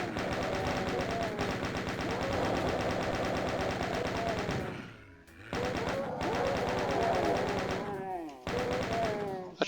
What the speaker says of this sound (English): Then back to the chain gun.